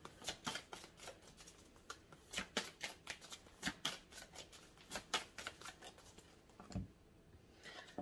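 A deck of oracle cards is shuffled and cut by hand, giving a close, steady run of soft riffling flicks and slaps for several seconds with no talking.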